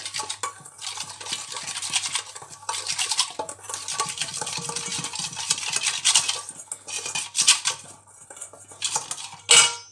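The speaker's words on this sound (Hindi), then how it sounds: "अब इसको चम्मच के साथ मिक्स कर लेंगे।" A metal spoon scrapes and clinks against a bowl while stirring a chicken mixture for a paratha roll. The taps come in close, irregular bursts with short pauses between them, and no one talks.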